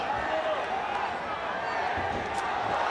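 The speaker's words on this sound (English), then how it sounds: "The crowd roars again as BELINGON came close with the punch." Loud, dense crowd roar fills a ONE Championship MMA arena during a fight, sustained and steady throughout.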